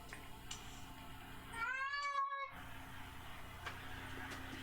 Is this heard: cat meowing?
yes